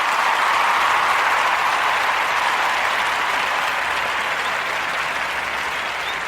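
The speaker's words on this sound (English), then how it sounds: "Gotta give y'all a round of applause for listening" Applause sound effect on a podcast: a dense, steady wash of many hands clapping, loud and close, holding evenly for about six seconds with a slight fade toward the end and no talking.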